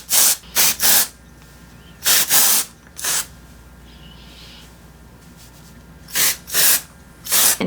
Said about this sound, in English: I think I'll go in with the dry shampoo.